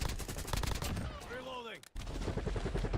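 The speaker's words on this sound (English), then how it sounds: "why is the sniper tower shooting us?" Gunfire from a sniper tower in Call of Duty Warzone, a burst of dense shots with scattered impacts, a sweeping whistling tone falling in pitch, then a sudden cut before the busy firing resumes loud and close.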